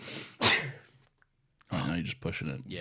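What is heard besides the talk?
sneeze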